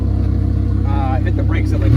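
A sports car's engine revs up hard as it launches down an airstrip in a drag race, its rumbling note climbing in pitch over a couple of seconds, loud and close.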